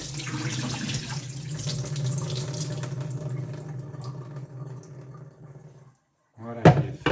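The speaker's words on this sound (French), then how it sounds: "Je rince un peu tout ça aussi." Vegetables rinsed under a running kitchen tap, a steady close wash of water that cuts off near the end, followed by a brief splash or clatter in the sink.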